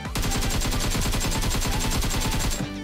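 Rapid automatic AKM rifle fire from a video game, a loud, steady stream of shots rattling continuously for over two seconds before cutting off abruptly.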